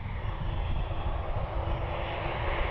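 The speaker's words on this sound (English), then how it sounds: "It is a Dassault Falcon taxiing over here." A Dassault Falcon business jet taxiing at Cleveland Hopkins airport, giving a steady, continuous engine roar and whine that holds an even level throughout, with no voices.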